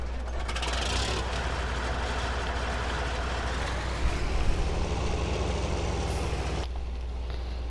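A tractor in Farming Simulator 19 starts up and settles into a steady, loud diesel-like engine drone with a deep rumble. A brief surge comes midway, then the sound cuts to a lower idle near the end, with no talking.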